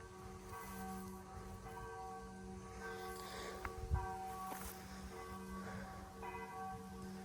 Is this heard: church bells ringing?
yes